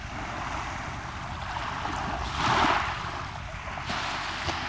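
Waves wash onto a rocky beach of mostly gray stones at high tide on a sunny day, a steady broadband rush with one louder surge breaking near the middle, no voices.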